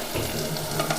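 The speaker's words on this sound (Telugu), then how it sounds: "ఉల్లిగడ్డలు మగ్గినాయి, ఇప్పుడు తోటకూర వేసుకుందాం" Amaranth leaves hitting onions already softened in a clay pot: a steady frying hiss and soft shuffling, close and fairly loud, with no voices.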